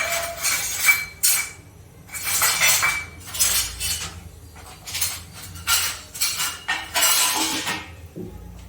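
A metal spoon stirring farali flour into buttermilk in a steel vessel for kadhi, making repeated scraping clinks in irregular bursts, close and fairly loud with brief pauses between strokes.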